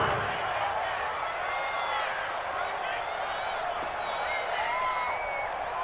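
Football stadium crowd during a game nearing a big third down, a dense, steady roar of cheering and applause filling the space, with a commentator's voice running underneath.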